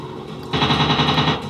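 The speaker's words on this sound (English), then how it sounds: "Boy, that's heavy fire." Machine gun fire in a WW2 air combat video game: a dense, loud, sustained burst starts suddenly after a quieter opening and rattles steadily for about a second before easing off.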